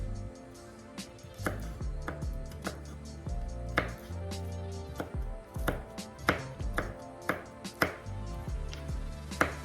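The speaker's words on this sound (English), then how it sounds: "The finer you could get the garlic would be best." A knife finely chopping garlic on a board, a run of sharp, close taps arriving in uneven bursts over roughly ten seconds, quicker and louder toward the end, with no talking.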